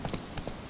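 Hoofbeats of a horse in The Witcher 3 video game, a few quick clip-clop steps close by, brief and moderately loud.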